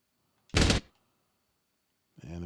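A short burst of rapid gunfire from Call of Duty: Black Ops, loud and close, lasts about a third of a second. A brief voice-like sound follows near the end.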